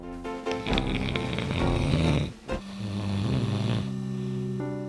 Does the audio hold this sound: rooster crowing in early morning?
no